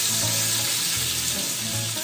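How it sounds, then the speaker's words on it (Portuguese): Food sizzles and fries steadily in a pan on the stove while Arroz de Braga is cooked, a close, continuous crackle with no talking. "E vou deixar eles darem uma fritadinha."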